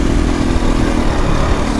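A KTM 250 EXC-F dirt bike rides through forest, its engine droning loud and close with a rough, pulsing clatter throughout.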